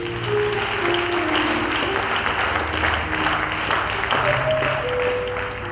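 A church congregation claps steadily during an Easter service, a dense, even wash of applause that lasts throughout with faint voices mixed in.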